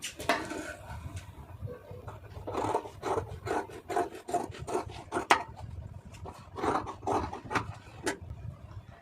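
Scissors cut through blouse fabric along marked lines, a close series of dry rasping snips and rubs in an uneven rhythm, with no talking.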